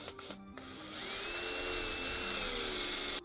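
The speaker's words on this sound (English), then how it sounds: "All right, we drilled out our hole for our anchor." A power drill whirs briefly, stops, then spins up into a long steady high-pitched drilling whine, close by, boring an anchor hole in a wall, before cutting off.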